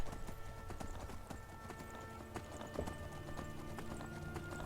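Hooves of a horse clip-clop steadily in Skyrim as the player rides, a brisk continuous rhythm of close, crisp strikes over faint game ambience.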